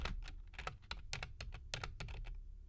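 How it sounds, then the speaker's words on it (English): Someone types quickly on a computer keyboard close by in a quiet room, and the keystrokes come in irregular bursts of clicks. "what are you typing?"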